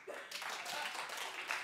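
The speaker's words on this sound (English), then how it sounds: "Clap if you think Jussie is innocent." A small television talk-show studio audience gives brief, faint, scattered clapping, with only a handful of hands joining in.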